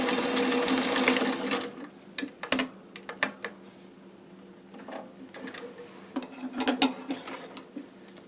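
A domestic sewing machine run in reverse to backstitch and lock a seam, heard as a steady mechanical whirr at the start followed by a series of short, sharp clicks and ticks spaced irregularly, close and moderately loud with no talking.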